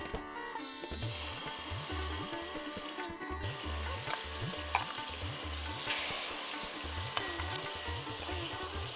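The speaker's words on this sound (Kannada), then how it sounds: "ಇದನ್ನು ನಾವು ತೆಗೆದು ಎಣ್ಣೆ ಇರುತ್ತಲ್ಲ ಅದರಲ್ಲೇ ಹಾಕ್ಕೋಬೇಕು" Tamarind paste boils and sizzles in hot oil for a pickle, with a continuous dense crackle and a regular thumping stir underneath, close and fairly loud.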